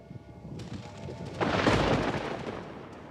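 Thunder from a storm: a low rumble builds, then a loud broad crack and roll breaks out midway and slowly fades, with no voices.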